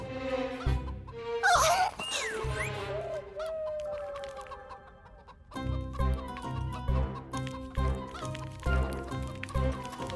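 A cartoon hen that lays golden eggs clucks and squawks in a burst early on, then quieter clucks sound over a musical score and sound effects, with no speech.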